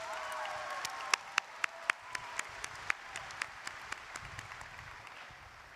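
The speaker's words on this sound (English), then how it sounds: "give another round of applause for your famous four factors." Applause at a high school graduation ceremony thins to a dozen or so distinct, loud individual claps spaced out in an uneven rhythm over a faint background crowd wash.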